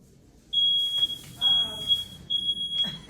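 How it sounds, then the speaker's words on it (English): A household smoke alarm beeps in steady bursts, a sharp high tone sounding about four times with short gaps, fairly close and clear over quiet room noise and a few faint voices. "That's the smoke alarm."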